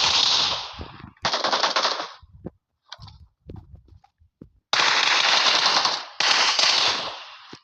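Gunfire in the battle royale game PUBG: loud sustained bursts of automatic fire, a pause filled with scattered single shots and clicks, then two more long rapid bursts.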